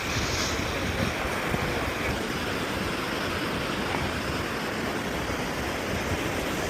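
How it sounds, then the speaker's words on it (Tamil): Continuous roar of ocean surf washing in at Botany Bay beach in England, broad and steady with wind noise over the microphone, no voices. "அலை வந்து ஒரு மாதிரி ஒரே மாதிரி வந்துக்கிட்டே இருக்குது"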